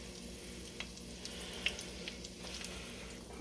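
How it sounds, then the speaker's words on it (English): Onions, garlic and parsley sauté in a pan for a paella sofrito, giving a soft, steady sizzle with a few faint stirring clicks, quiet and close with no voices. "we're going to be making a sofrito, which is you sauteing onions,"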